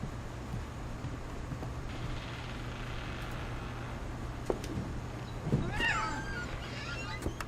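A cat meows in What Remains of Edith Finch, a short drawn-out call with a second quick cry just after, standing out over a low, steady game hum.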